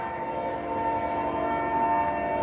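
Northbound freight train hauled by an ex-GTW SD40-2 and an IC SD70 locomotive running between Champaign and Gilman, Illinois, giving a steady, continuous rumble with sustained engine drone throughout.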